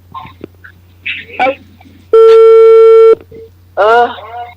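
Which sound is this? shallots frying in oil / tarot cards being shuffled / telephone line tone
telephone line tone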